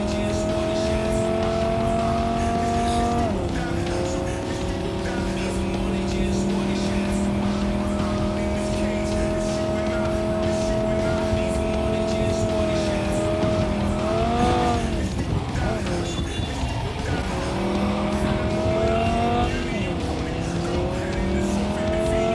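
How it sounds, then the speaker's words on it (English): Sustained engine roar from a car racing at high speed in the video game Cyberpunk 2077, with tires squealing and skidding as it veers off course, loud and continuous throughout. "Car veered along the wrong road."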